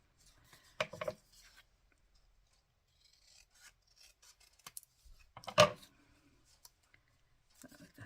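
Scissors snipping paper while making an envelope journal, two crisp cuts a few seconds apart amid faint rustling and handling clicks in a quiet room.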